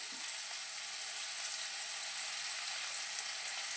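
Onions and coconut tempering in hot oil in a pan for a chana dal and tomato kootu, giving a steady, dense crackling sizzle that holds evenly throughout, close and moderately loud.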